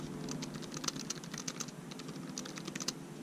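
Keys tapped on a Gigabyte Aero 15 laptop keyboard, a quiet close run of light clicking strokes in uneven bursts with short pauses, no voices.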